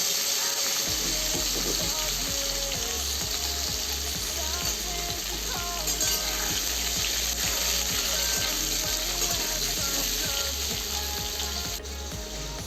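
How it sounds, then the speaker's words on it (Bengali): Pieces of papaya frying in oil in a pan, cooked the same way as potatoes for an aloo-papaya dalna. A steady, loud, close sizzle runs throughout over a rhythmic low thumping beat. "এইবার আমি পেঁপেটাও আলুর মতন ওরকম করে ভেজে নেব"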